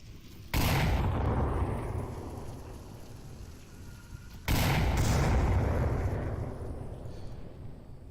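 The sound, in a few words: grenade explosions in the VR game Onward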